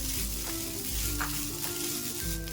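Food frying in a pan with salt and a pinch of turmeric, a steady close sizzle with soft scraping as it is stirred, no talking.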